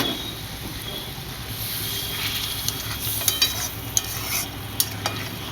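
Egg curry simmers in a pan after water is added, giving a steady bubbling sizzle while a utensil stirs and scrapes with a few sharp clinks against the metal.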